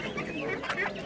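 Chickens at a street poultry market, including black-skinned birds, give short clucks and rustling calls close by, mixed with busy market noise and people talking throughout.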